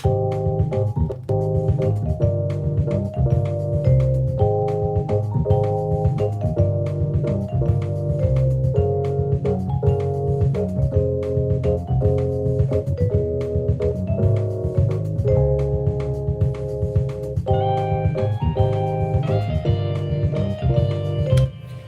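A bossa nova arrangement layers a steady bass line, bell tones and Rhodes electric piano chords in a relaxed, continuous groove, with brighter bell notes coming in near the end.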